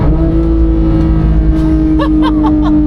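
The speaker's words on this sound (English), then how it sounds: "Also those downshifts." A Porsche 911 GT3 engine drones loudly up close with a steady tone, then gives several quick sharp blips as it downshifts near the end.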